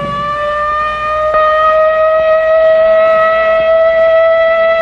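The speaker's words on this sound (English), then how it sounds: "But tomorrow, this siren may mean the real thing." A civil defense siren wails loudly and steadily during a training exercise, holding one sustained rising tone with strong harmonics for several seconds with no voices.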